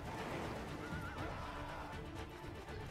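A horse whinnies in Crimson Desert amid loud, dense game action noise with clopping hooves, the neigh partly buried in the mix.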